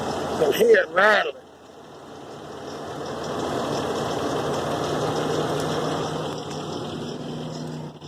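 A truck engine idles with a steady mechanical rattle and knock, close and continuous for several seconds after a brief spoken moment at the start.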